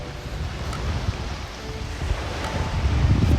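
Seaside surf and gusting wind on Khanom beach, a broad continuous wash of waves with wind buffeting the microphone, swelling slightly louder toward the end.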